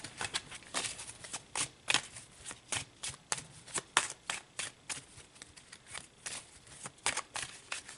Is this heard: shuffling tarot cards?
yes